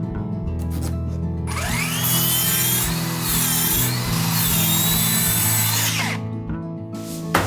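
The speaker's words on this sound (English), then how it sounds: "So I cut 1/3 from each side of a plank." A power saw cuts through a wooden ceiling plank, a loud, close, sustained whine with wavering pitch lasting several seconds, framed by a steady low hum before and after the cut.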